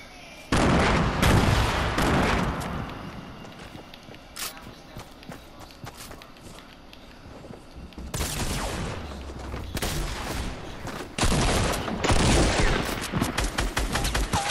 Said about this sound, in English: I got a shotgun double pump.